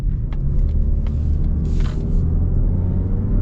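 A 2025 Mazda 3 Hatchback with an automatic transmission accelerating, a steady loud low engine rumble and road drone heard from inside the cabin, with no talking.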